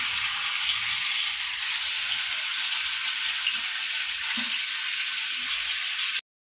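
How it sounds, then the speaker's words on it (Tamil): Fish, a large jilebi fish among them, frying in hot oil: a loud, dense, continuous hissing sizzle that holds steady, then cuts off abruptly near the end. "எந்த ரெண்டு மீன் இருக்குது இதை வறுத்தரலாம்"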